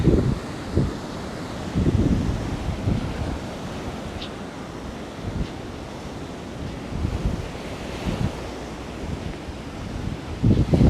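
Arabian Sea surf at Kovalam Beach, Kerala, rolls in as a continuous wash of breaking waves with repeated louder surges, mixed with wind buffeting the microphone and no voices.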